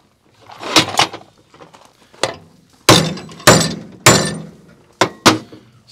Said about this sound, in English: Smack it on one side.